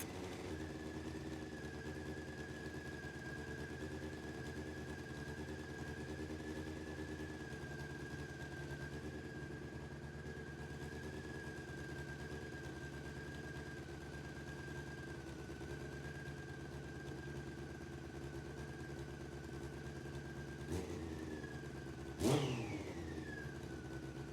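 A Honda CBR600 motorcycle with 64,000 miles runs at a steady idle for over twenty seconds, a low even drone with a sustained whine above it, then a brief rev near the end; fairly quiet and unaccompanied.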